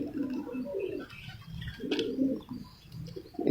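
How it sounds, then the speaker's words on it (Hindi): Soft, low pigeon coos repeat in short throaty phrases close by, with quiet rustling between them and no talking. "तो राना साहब इस कबूतर की दोम दिखाएं।"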